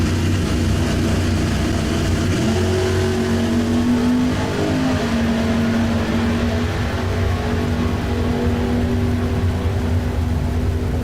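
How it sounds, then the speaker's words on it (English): A 1965 Chevrolet Nova and a pickup truck drag race at a bracket race, with loud continuous engine roar and rising revs throughout, alone with no talk. "Next pair, how about Eric McLaughlin and his 65 Chevrolet Nova here in the NC Cat lane"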